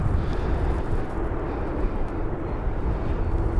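An arriving airliner at London Heathrow Airport produces a loud, continuous low rumble and roar that fills the whole stretch without pause, heavy and close in the open air.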